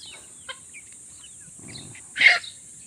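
A Brahma chicken clucks once fairly close, followed by soft rustling and faint chirps against a quiet outdoor background.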